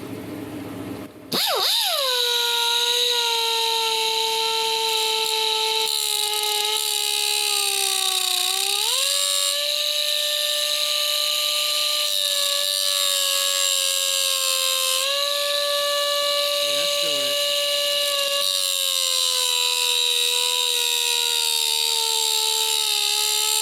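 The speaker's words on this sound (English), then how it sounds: "I'm going to try using my reversible cutoff, and hopefully we can get in a little closer with it" A reversible cutoff tool cuts metal on a 1979 Toro 826 snowblower with an 8hp Briggs & Stratton engine: a loud, steady high-pitched whine that dips briefly as the load changes, continuing for the whole stretch.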